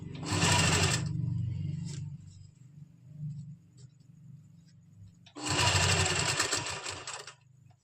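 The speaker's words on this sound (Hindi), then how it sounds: "यहाँ पर हम बड़े टांके की सिलाई लगा देंगे।" A sewing machine runs big stitches along a suit neckline with lining, two loud close whirring bursts separated by a quieter pause with faint handling sounds.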